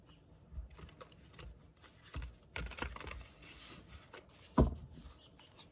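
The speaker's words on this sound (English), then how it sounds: "Let's do some shuffling." A deck of tarot cards is shuffled by hand in irregular bursts of soft riffling and rubbing, with a sharper clack near the end, fairly quiet and close, with no talking.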